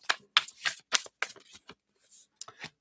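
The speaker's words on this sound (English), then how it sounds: "So let's give these a shuffle." A deck of tarot cards being shuffled by hand during a reading, a series of crisp riffling bursts and soft card slaps in an irregular rhythm, close and fairly quiet with no talk.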